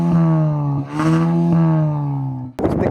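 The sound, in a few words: car engine sound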